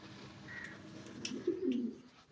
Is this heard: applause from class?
no